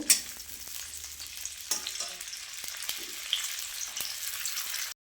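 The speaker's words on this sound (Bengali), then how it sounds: "দিয়ে দিলাম কড়াইতে তেল পরিমাণ মতন। শিমটাকে ভেজে নেব।" Steady oil sizzle with crackling spatters as flat beans fry in a wok, continuous and close, with occasional stirring knocks; no voices, then it cuts off abruptly.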